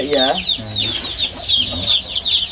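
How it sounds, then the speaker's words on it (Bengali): Native local hens kept in a cage cluck close by in short repeated calls, with a brief squawk at the start and faint talk in the background. "এই যে দেশি মুরগি আছে, খাঁচাতে করছে দেশি মুরগি"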